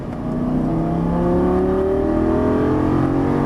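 A Lamborghini Gallardo LP550 accelerates on a driving course, its engine note climbing steadily in pitch as the revs rise, loud and sustained throughout.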